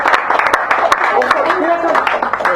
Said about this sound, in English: We're just doing applause.